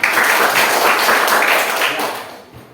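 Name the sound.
classroom applause for group 3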